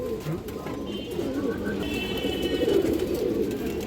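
Bagha pigeons, including a silver Bagha male, coo low and soft in a loft, partly under a voice talking, with a few faint higher chirps above.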